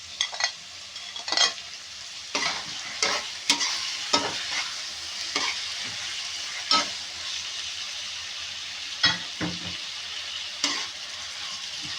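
Shrimp fry in a pan for ginisang munggo sa gata, making a steady sizzle broken by repeated scraping stirs of the spatula, close and fairly loud, with no talking.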